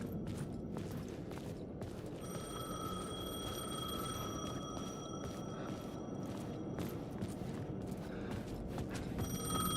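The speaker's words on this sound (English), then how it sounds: "The payphone was ringing." A payphone rings inside a video game, its steady electronic tone repeating through a dense, noisy backdrop of game ambience with scattered clicks and thumps, no one speaking.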